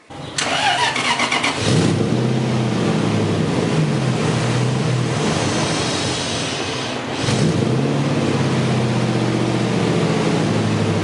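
A Lexus car engine cranks and catches, then runs loud and rough with an uneven, stumbling misfire from an unplugged vacuum line, briefly dipping before surging again.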